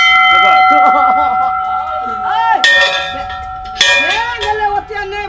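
Temple bell for Bhola Baba rung repeatedly and hard, bright clanging strikes with long ringing decay, two especially loud hits standing out, while voices talk around it.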